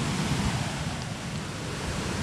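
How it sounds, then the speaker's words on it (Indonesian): River rapids at Pos Yum near Sungai Siput, Perak, rushing in a steady, dense broadband roar of flowing water that stays constant and fairly close throughout. "Tapi jeram ni pun cukup best lah ni."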